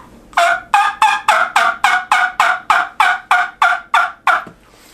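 An Old Sly series turkey call, played indoors, gives a string of about twelve sharp, high-pitched yelps in quick, even rhythm, loud and close with nothing else behind it.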